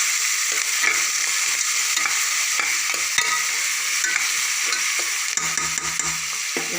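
Ingredients for mushroom rice sauté loudly in a pan, a constant close sizzle broken by repeated scraping strokes of a stirring spoon, no talk.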